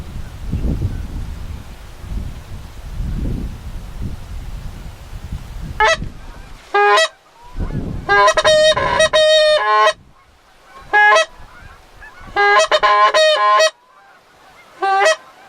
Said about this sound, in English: Watch a migrating flock over the sky. That's what that is.